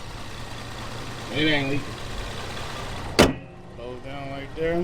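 A 2009 Nissan Maxima SV Premium engine idles steadily with a sharp click partway through and light rattling, while someone talks over it close by.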